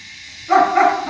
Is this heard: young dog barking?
yes